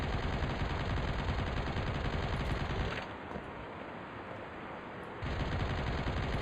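A turret machine gun fires in Turok Evolution, a dense, loud continuous burst that drops back briefly mid-way, then resumes at full intensity, with no talk over it.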